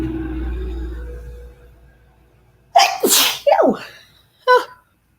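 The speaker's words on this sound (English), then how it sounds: "Oh, I'm gonna sneeze." A person sneezes close to the microphone: a fading low hum first, then a sharp burst followed by two more explosive sneeze bursts and a final short one, loud and with no talk.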